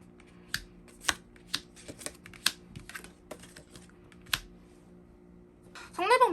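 Tarot cards are riffled and drawn in a series of sharp, crisp snaps and flicks spaced irregularly, ending with a short, louder rustling shuffle.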